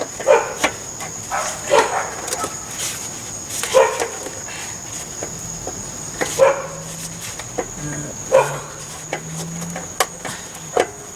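A dog barks repeatedly in short, sharp bursts at irregular intervals, moderately near, over a faint steady background hum.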